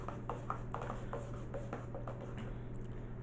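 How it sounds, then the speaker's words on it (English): Coffee grounds stirred in a Stanley French press, a spoon scraping and tapping softly in a quick irregular rhythm, faint and close, with a steady low hum underneath. "And then I just stir it in."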